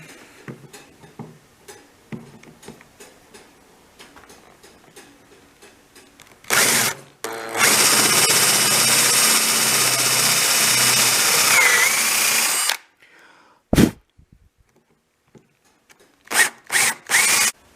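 A power drill boring holes into clamped birch wood for a coffee table, one long sustained whine of about six seconds between shorter bursts, close and loud, with softer handling clatter around it.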